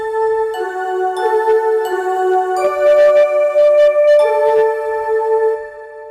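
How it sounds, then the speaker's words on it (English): Bright Christmas bell tones from a Yamaha Genos 2 keyboard ring out in a steady melodic sequence, sustained chimes layered with sparkling high tinkles, fairly loud with no voices. "the bells are still there, because you got to have bells for Christmas"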